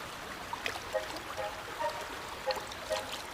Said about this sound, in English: Below the forest, the river Glemgia winds through the valley.